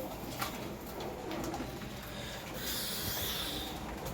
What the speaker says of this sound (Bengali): আমার মাদি পায়রাগুলো এখানে খাওয়া দাওয়া করছে।